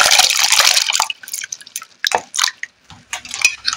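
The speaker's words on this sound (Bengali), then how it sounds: "এবারে এই জলটাতে দিয়ে দেব।" Small cut pieces of potato dropped and swished into a bowl of water, a close burst of splashing followed by scattered drips and light plops.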